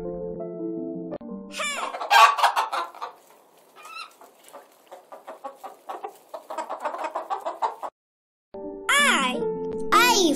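A hen clucks in a quick run of short, rough notes at close range, set between bright, sweeping childlike sung voices at the start and end.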